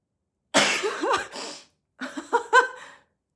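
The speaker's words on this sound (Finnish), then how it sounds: "Ja nyt tulee muuten aivastus." A person sneezes indoors in two bursts: a sharp, loud first sneeze followed after a short pause by a second, shorter series of breathy sounds, with silence before and between.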